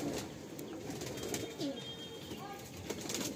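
Male pigeons in a breeding loft coo softly in low, rolling calls over a faint continuous background hum, with occasional light wing or perch sounds.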